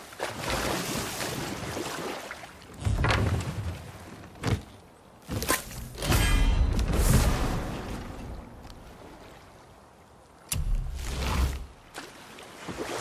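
Boat rowing on water in the video game God of War (2018), heard as a steady wash of water with intermittent heavier splashing strokes and thumps, fairly loud, with no speech over it.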